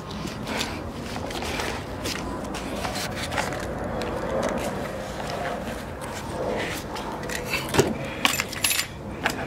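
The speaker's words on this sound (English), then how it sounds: "Take the key out of the ignition." Car keys jangle and rattle as the key is pulled from the ignition, a busy metallic clinking that runs throughout with brief sharper chinks near the end.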